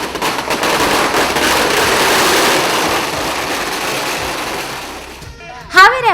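Firecrackers going off in the street during a Congress workers' victory procession in Karwar: a dense, continuous crackling barrage for about five seconds, then a brief sharper burst near the end.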